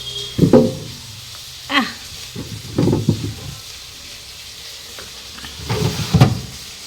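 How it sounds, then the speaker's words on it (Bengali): Potatoes fry in a pan, a soft steady sizzle broken by several louder scraping bursts as they are stirred, heard close with no talking. "এখন আলু ভাজাটা করে নিই"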